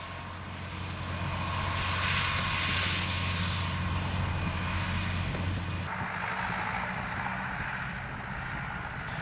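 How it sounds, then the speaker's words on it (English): A McHale round baler works in a grass field behind a Massey Ferguson tractor, a steady droning engine and machinery hum at moderate distance, with no voices. "This McHale round baler is at work with the Massey Ferguson."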